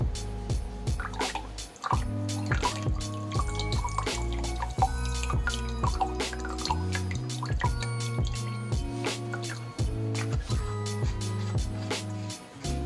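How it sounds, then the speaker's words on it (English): Water and tamari soy sauce pour into a measuring cup, giving a close, bright trickle with rising gurgling tones as the liquid fills, steady for several seconds. "And then I'm going to be adding about 1/4 cup of tamari soy sauce."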